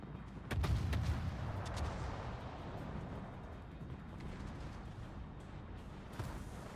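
Heavy naval gunfire and torpedo explosions in a WW2 video game, with deep, rumbling booms layered into a continuous low roar of battle, fairly loud throughout.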